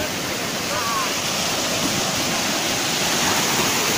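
Black Sea waves wash onto the shore at Anapa on a calm morning, making a steady, even rush of surf that continues throughout with no pauses and no voices.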